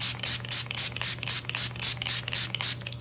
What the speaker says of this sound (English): I will spritz this. I keep a spray bottle of water handy